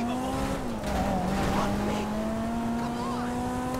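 A sports car in GTA 5 revs with a steady, droning engine and exhaust note that rises and holds at high pitch, loud and close, with a brief tire squeal and faint voices underneath.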